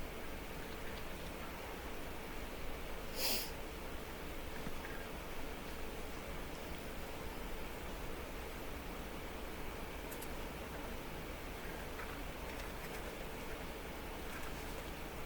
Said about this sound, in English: Oh, I think it's raining.